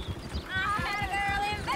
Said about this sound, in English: I love how the horses start running when they see.